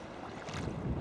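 A sea kayak pushes into a headwind and opposing current, with steady broadband wind and water rush building slightly louder toward the end, no voice present.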